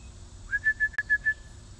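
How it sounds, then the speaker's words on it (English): A short run of six steady whistle blasts used as a dog recall for bird hunting, sounded in a quick even rhythm and heard clearly in a quiet outdoor setting, with one brief click partway through. "that's my recall whistle that I've been using for her vocally"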